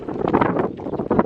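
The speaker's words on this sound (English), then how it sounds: "So it is extremely windy" Strong gusting wind buffets the microphone outdoors during a horse ride in Spain, a loud continuous rumbling roar that swells and dips with no talk.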